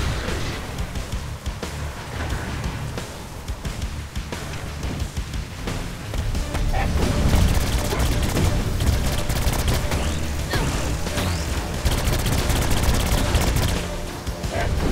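SMG gunfire in Saints Row IV: dense, rapid automatic bursts rattle almost continuously at high loudness, mixed with booming impacts and game noise.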